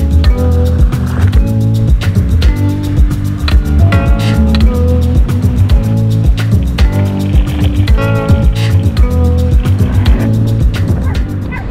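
Vehicles roll across a ferry car deck, their tyres thudding rhythmically over metal joints and ramps in a steady, loud series of clunks that echo through the enclosed hold.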